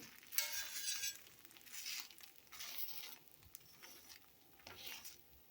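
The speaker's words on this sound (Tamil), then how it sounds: "சிம்மில் வச்சு ஒரு 2 நிமிஷம் அப்படியே வேகட்டும்." Wheat-flour adai dosa cooks on a pan over low heat, giving a soft, crackly sizzle with occasional stirring or scraping scuffs, close but faint and with no talk.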